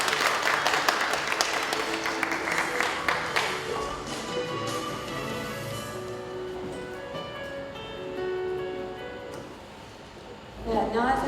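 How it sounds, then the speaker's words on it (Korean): Audience at a Korean youth politics talk applauding to welcome a speaker, a burst of close, dense clapping that thins out after a few seconds, followed by quieter murmuring in the room. "박수로 많이 환영해주세요"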